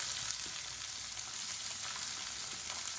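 Shallots and onion frying in hot oil, a steady dense sizzle that holds evenly and close throughout with no talk over it.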